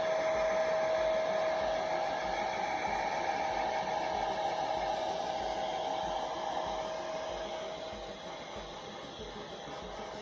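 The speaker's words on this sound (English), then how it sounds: "they all love the hair dryer" A hair dryer blows on a battery hen's feathers, a steady close whooshing hiss with a thin whine, running alone and easing slightly quieter toward the end.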